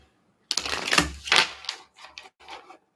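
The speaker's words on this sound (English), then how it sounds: "I've already shuffled the Revelations edition, but I'm going to shuffle it a little more" Deck of Revelations edition cards being shuffled by hand: a close, rapid riffling flutter lasting about a second, followed by a few shorter crisp riffles.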